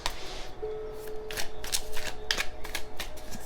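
Tarot cards are shuffled close up: a run of crisp, papery riffles and flicks in uneven bursts, with a brief faint tone partway through and no talking.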